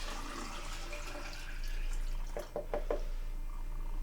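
Water poured from a pint container into a quart container makes a steady close splashing pour, followed by a few brief drips and trickles as it tapers off.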